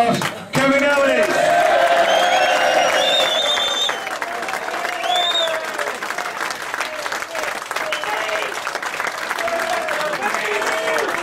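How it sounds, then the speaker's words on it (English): A big, sustained round of applause from an audience at an evening event, with whoops and cheering mixed in and a voice speaking over it. "A big round of applause, Kevin Ellis!"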